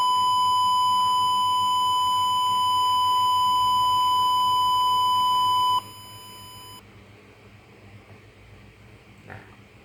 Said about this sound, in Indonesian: buzzer akan menghasilkan suara yang mengartikan indikator bahaya